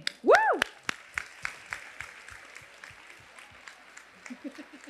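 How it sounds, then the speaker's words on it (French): A thousand-strong women's audience at an evening event briefly cheers with a loud whoop, then scattered, fairly sparse clapping continues at a distance with some chatter. "On s'applaudit, les filles."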